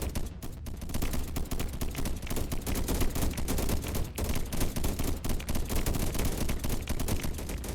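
Defensive guns in the video game Deep Among the Swarm fire continuously as rapid, dense, machine-gun-like bursts that roll on for several seconds at a steady level with no talking.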